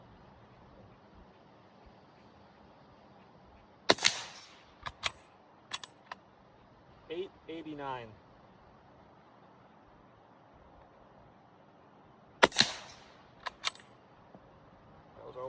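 A Delisle carbine firing Blazer Brass .45 ACP rounds gives two sharp, muffled shots about eight seconds apart, each followed by mechanical clicks and handling noise, with brief talk.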